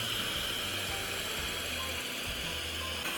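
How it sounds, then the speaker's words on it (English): An electric hand mixer whips egg whites with a steady, unbroken mechanical whir and faint rattle that fills the whole stretch at close range, with no talking. "While it's mixing, stay nearby and use those few minutes to wipe down the counter"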